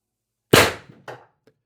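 A Pistelle X-68 air pistol fires a single shot of A.C.I.L 10.10 g ammunition, a sharp, loud crack with a short decaying tail and a faint click just after, alone with no talk.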